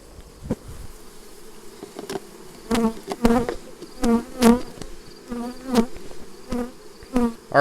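Honey bees buzz around an open beehive frame during a hive check for varroa mites, close droning hums that swell and fade as individual bees fly near, with no voices.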